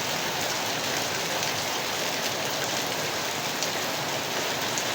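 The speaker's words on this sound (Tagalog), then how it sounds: "So, super lakas ang ulan." Very heavy rain pours down steadily and loudly, a dense continuous hiss of drops on surfaces with no pauses and no voices.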